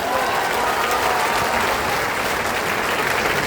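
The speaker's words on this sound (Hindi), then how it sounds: "जोरदार ताली बजाएगा।" A dense crowd at a political rally in Khagaria claps hard, a steady unbroken roar of applause held at full volume for the whole stretch.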